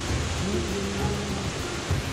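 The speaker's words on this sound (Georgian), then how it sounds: "რა ლამაზი ჩანჩქერი რა" A waterfall in the Swiss Alps rushes as a steady broadband hiss, distant and even throughout, with faint murmurs of voices underneath.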